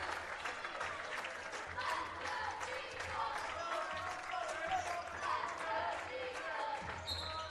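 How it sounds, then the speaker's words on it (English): A crowd at a men's college basketball game claps and hollers steadily, with sneaker squeaks and ball bounces on the court and an announcer's voice over the noise. "As the crowd starts to holler, as the Eagles about to close out a big win."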